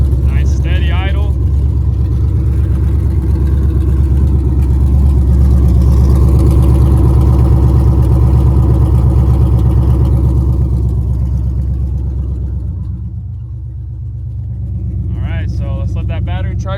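A Dodge 6.4 Hemi Scat Pack with a stage 1 cam idles on open headers, a loud, deep, loping rumble that holds steady, dips briefly near the end and then recovers, with a voice talking over it.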